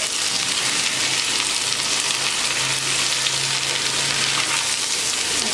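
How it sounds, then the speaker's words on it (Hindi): Potatoes and ridge gourd (nenua) fry in a pan with a steady, close, continuous sizzle that holds evenly throughout, with no talking over it. "इसमें हम नेनुआ डाल देंगे और इसको अच्छे से इसे भी हम भून लेंगे आलू के साथ"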